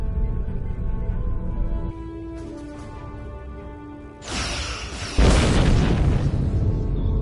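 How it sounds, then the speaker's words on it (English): Heavy weapons fire and explosions from starships in the space game Star Trek Online, a TOS-era Enterprise battling an Undine planet killer: deep rumbling booms that build and burst loudly over the closing seconds, with no talk. "Target that ship, and fire all weapons!"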